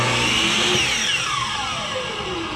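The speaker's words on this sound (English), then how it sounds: "as I let go, you heard the brake kick on, and that shut it off" Miter box saw spins up with a loud, close whirring roar, then its electric brake engages and the motor's pitch sweeps steadily down as the blade winds to a stop.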